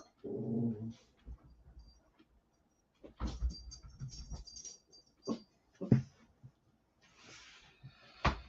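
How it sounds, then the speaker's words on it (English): Two dogs indoors bark and growl in scattered bursts, loud yelps at moments and quieter rumbling growls between, with short pauses of near silence. "the dogs are going nuts"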